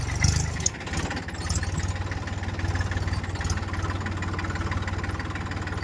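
A tractor engine idles steadily with a low, throbbing rumble that continues evenly throughout, with no voices.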